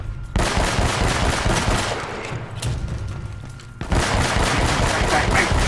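Automatic gunfire in Uncharted: Drake's Fortune, loud sustained bursts of rapid shots that cut off briefly near the middle before resuming hard to the end.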